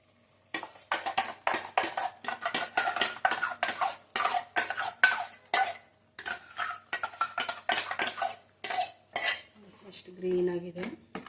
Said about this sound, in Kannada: ಈಗ ಪಾಲಕ್ ರುಬ್ಕೊಂಡಿದ್ರಲ್ಲ, ಪಾಲಕ್ ಹಾಕ್ಕೊಬೇಕು. ಉರಿ ಕಮ್ಮಿ ಇಟ್ಕೊಳ್ಳಿ, ಉರಿ ಕಮ್ಮಿ ಇಟ್ಕೊಂಡು ಹಾಕ್ಕೊಳ್ಳಿ